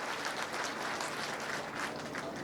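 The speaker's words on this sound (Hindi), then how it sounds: "आप सब लोग भी अपनी तरफ से जरा जोरदार तालियां बजाकर शिवमंगल जी को" A hall audience at a political gathering applauds, a faint, steady wash of clapping lasting a couple of seconds without a break.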